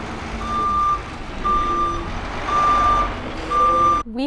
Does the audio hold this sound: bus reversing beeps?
yes